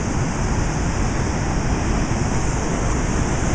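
A waterfall in Chile roars as steady broadband rushing water, loud and close, with a little wind buffeting the microphone and no voices.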